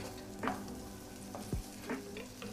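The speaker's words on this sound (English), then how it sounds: "we are going to add a bit of oil. Just a little oil. We add our onions." Onions frying in a little oil for a potato pie, a faint, soft sizzle with a few light stirring clinks, quiet and without talk.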